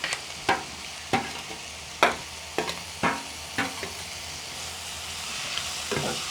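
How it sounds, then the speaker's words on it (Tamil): Tomatoes go into a home-cooking pan for chicken biryani and sizzle steadily while a spoon stirs in a series of sharp scraping strokes roughly once a second, with no voices over it. "நாங்கள் இப்போ தக்காளியை போடுறோம்."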